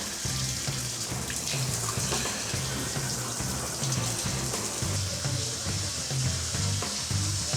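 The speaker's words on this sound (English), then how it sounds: "Wow, that shower head really pumps it out." Shower head spraying water in a steady, loud, continuous hiss during a water test inside a family home, with no talk.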